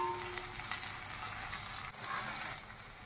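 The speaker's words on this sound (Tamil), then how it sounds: "இப்போ இஞ்சி பூண்டு வாசம் வந்து போகிற வரைக்கும் ஒரு 2 to 3 நிமிஷம் நல்லா வதக்கி விட்டுக்கும்" Ginger garlic paste sautés in a pan for chicken thokku, a faint, steady sizzling hiss with light crackles and occasional soft stirring clicks, and no talking.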